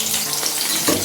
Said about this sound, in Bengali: আলুগুলো ভেজে নিচ্ছি নুন আর হলুদ দিয়ে